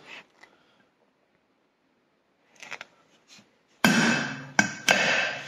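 A hammer strikes steel during setup of a magnetic drill, with faint tapping and handling noises followed by two or three sharp, loud, ringing close metallic blows.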